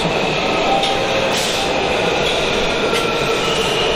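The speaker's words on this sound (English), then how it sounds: "here's a yellow line train headed for Mount Vernon Square" A Washington, DC Metro Yellow Line train rumbles past close by, a steady loud roar of wheels on rails with faint squeals and clacks.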